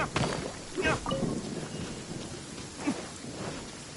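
Rain and rumbling thunder in the video game Genshin Impact, a steady wash of rainfall with low thunder rolls and a couple of sharper cracks, continuous throughout.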